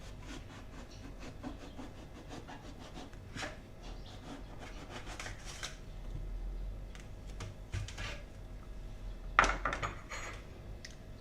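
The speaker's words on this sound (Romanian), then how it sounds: "Le luăm miezul cu o lingură." A metal spoon scrapes the soft flesh out of halved eggplants, giving a run of close, gritty rubbing strokes with a few sharper clinks against the skin or bowl near the end, and no talking.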